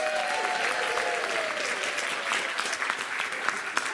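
Studio audience applauding to vote for one option in an interactive comedy show, steady dense clapping throughout with a few louder claps near the end.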